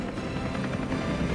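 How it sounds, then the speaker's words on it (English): A formation of military helicopters (Seahawk, Apache, Super Puma and Chinook) in a National Day flypast gives a loud, steady rotor roar overhead, continuous and dense throughout. "Leading this year's National Day aerial flypast is the combined helicopter formation,"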